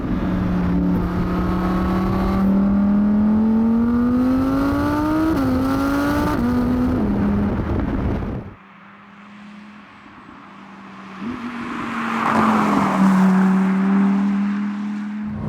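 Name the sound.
sports car engine accelerating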